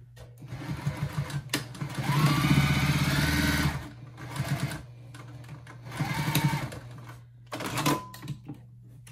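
A sewing machine stitches along a marked line on a fabric bowl cozy, running in bursts of rapid clattering needle strokes over a motor hum, stopping and restarting at close range.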